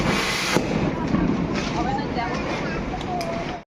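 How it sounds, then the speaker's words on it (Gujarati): A few sharp firecracker pops burst over a dense, noisy background of crowd chatter and commotion outdoors during Diwali celebrations. "રાકેશ માસા ફોડે છે એમાં ફટાકડા"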